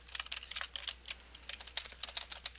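Fast, uneven typing on a computer keyboard during an online game, a dense patter of close, crisp key clicks with no voices.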